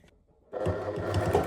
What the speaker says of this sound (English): So you can just start sewing.